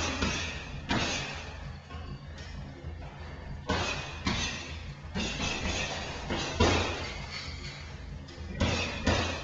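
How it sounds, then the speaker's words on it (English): Uppercut punches landing on boxing pads during a training session, a series of loud, close, irregular thuds and slaps repeating across the clip with no speech between them. "Shooting them uppercuts."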